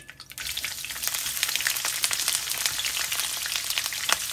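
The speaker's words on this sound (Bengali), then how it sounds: "এখন দিয়ে দিচ্ছি পেঁয়াজ কুচি" Chopped onion hitting hot oil for spinach pulao, a sudden sizzle that swells after a quiet start and holds as a dense, close hiss with crackling pops.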